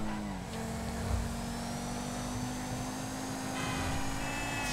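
An Albany Alpha, a Bentley-style car in GTA Online, drives along with a steady engine hum and a sustained tone, moderate and even, a few brief bumps along the way and no talk.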